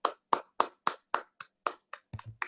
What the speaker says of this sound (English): Give us a virtual round of applause for Ambassador Rasgotra.